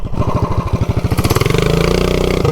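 A 420cc minibike engine, fitted with a Volts sprocket, revs hard on a wheelie launch, its loud, close pulsing exhaust note climbing quickly in pitch and rising into a dense, rapid buzz.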